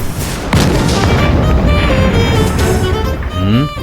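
A TV serial sound effect of a doll exploding: a sharp, loud boom bursts in early, then a rumbling, crackling blast tail rolls on and ends in a final swelling whoosh.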